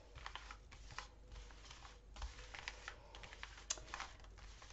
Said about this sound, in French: Alors je vais mélanger les cartes du tarot de Marseille puisque là elles sont dans l'ordre.